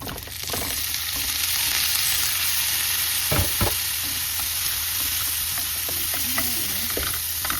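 Shrimp sizzling in a pan with golden-browned garlic, a steady loud frying hiss with a few clanks of stirring, close and continuous with no talk.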